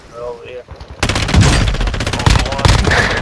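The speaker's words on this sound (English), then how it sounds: "I'm getting shot at." Rapid automatic gunfire in a helicopter combat video game, loud sustained bursts of machine-gun fire starting abruptly after a quieter opening, with a voice faintly under it.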